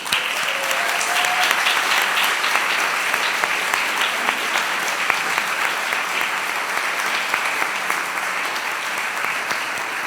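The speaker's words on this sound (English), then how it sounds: "Please put your hands together in thanking all of our staff for their daily commitment to our students" Sustained, dense applause from a large audience at a school graduation ceremony, loud and steady for the whole stretch, clapping in thanks for the school staff.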